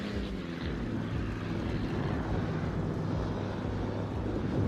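Continuous droning propeller engines of aircraft carrier planes in the World of Warships video game, a steady, loud hum filling the whole clip with no talk over it.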